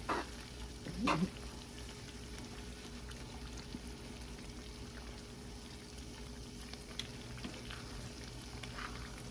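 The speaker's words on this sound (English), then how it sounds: "we're gonna give it another stir again" Food frying in a pan gives a quiet, even sizzle with an early stirring scrape and a few faint clinks, heard close but low in level.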